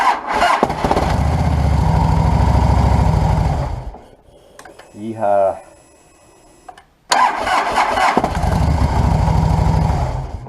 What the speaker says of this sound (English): I'm going to hook the battery up and make sure it starts